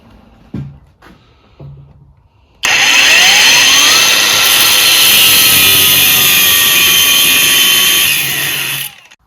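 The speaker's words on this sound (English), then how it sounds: "we've got one of our cheap and cheerful Makita copycat angle grinders, and we'll have a go at some of this" A cheap Makita-copycat angle grinder spins up and cuts into welded metal, a loud, steady high-pitched whine with a bright grinding hiss that holds for about six seconds before stopping, after a few light knocks beforehand.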